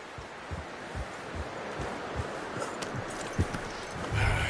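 Horse hooves clip-clopping at a steady walking rhythm in the Red Dead video game, close and moderately soft over a rustling outdoor ambience.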